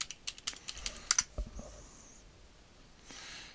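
A password being typed on a computer keyboard, with a quick run of about a dozen crisp, close key clicks that stops after a second and a half. A faint breath or sigh follows in a quiet room.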